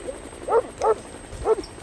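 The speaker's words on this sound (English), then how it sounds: "Do what they tell you, the dog's coming to get you out." A police K9 dog barks three times in a steady, moderately close series, each bark short and sharp, with quiet background noise between them during a police arrest.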